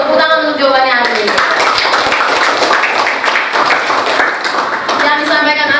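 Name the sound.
class applause for Arif's answer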